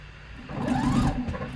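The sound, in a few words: sewing machine stitching a buttonhole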